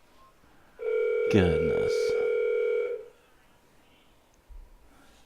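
Telephone call placed to a man's phone and routed to voicemail: a loud steady dual-pitch tone holds for about two seconds, with a brief spoken exclamation over it, then quiet with a faint click.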